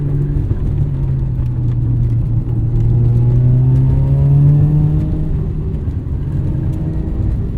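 A 1994 Mazda RX-7 with modifications pulls hard up a tight canyon road, its loud, smooth engine note rising steadily in pitch under acceleration and heard from inside the car, with no voices.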